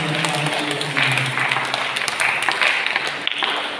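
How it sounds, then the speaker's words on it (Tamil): An audience at a church festival mass claps together in sustained applause, a dense, continuous patter of hands carried on throughout with a faint resonant hum underneath. "மீண்டும் ஒருமுறை அவர் கைத்தட்டி பாராட்டுகிறேன்."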